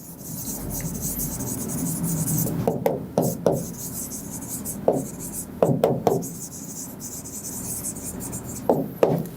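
Marker or chalk strokes on a board during an economics lecture, a series of short scratchy bursts with pauses between them over a quiet room hum.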